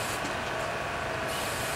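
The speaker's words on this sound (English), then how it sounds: "I'm gonna spray it down" A continuous hiss of liquid sprayed onto a towel close to the microphone, steady for under two seconds, while a mower is being rebuilt and painted.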